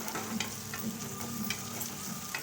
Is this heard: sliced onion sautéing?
yes